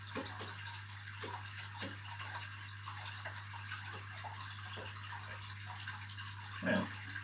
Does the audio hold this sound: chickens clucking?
no